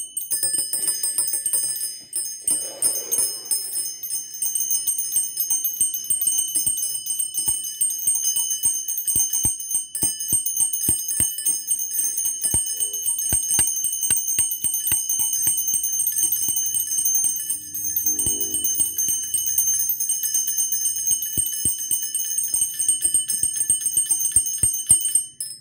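Continuous high ringing of small bells, a bright shimmering wash that sustains for the whole stretch with scattered light clicks and taps beneath it.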